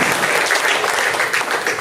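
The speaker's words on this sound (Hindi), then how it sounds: "तालियों से स्वागत करें" Audience applause greets a call to welcome the Lifebuoy soap point at an RCM program gathering, a steady dense wash of many hands clapping, loud and close, alone throughout.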